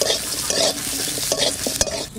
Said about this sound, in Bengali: এখানে আছে গোলমরিচ, শুকনো লঙ্কা আর গোটা জিরে দিয়ে দিলাম, দিচ্ছি একটু গোটা ধনে, ভালো করে ভেজে নেবো এগুলো সব